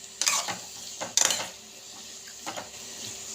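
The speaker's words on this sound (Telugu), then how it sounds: "పొట్లకాయ వేగాలండి." Snake gourd stirring and frying in a pan, with a few scraping stirs and clinks of a utensil against the pan over a faint steady sizzle; no talking.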